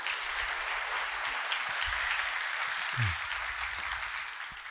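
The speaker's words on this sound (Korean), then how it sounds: "박수 한번 부탁드리겠습니다." Audience at a computer security conference session applauding after a talk, steady broadband clapping from a moderately sized room that holds for a few seconds, then gradually thins and fades.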